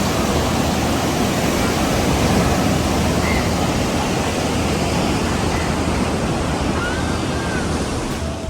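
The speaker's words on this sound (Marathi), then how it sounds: "लाटा उफान येत आहेत एकदम." Sea waves surge onto Devgad beach near Kunkeshwar in Sindhudurg, Konkan, a loud, continuous roaring wash of surf with wind buffeting the microphone.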